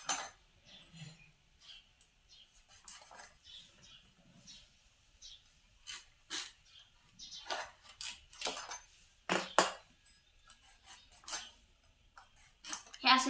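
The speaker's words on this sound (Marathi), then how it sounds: "हे असं चिरायचं असतं खोबरं" Dried coconut being chopped with a knife in a home kitchen, with scattered sharp cuts and scraping clicks, some louder strikes near the middle and end, under intermittent talking.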